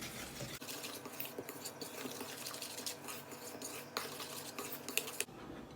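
Coconut flour, cocoa powder, a pinch of salt and baking soda are stirred together in a bowl, giving a soft, continuous scraping and light clinking of a utensil against the bowl, quiet and close.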